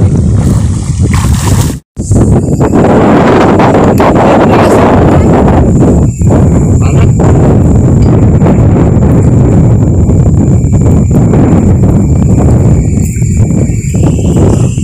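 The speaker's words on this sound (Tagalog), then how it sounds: "lakas ng hangin" Strong wind by a river buffeting the microphone in a loud, constant roar with gusty fluctuations, briefly cutting out once near the start.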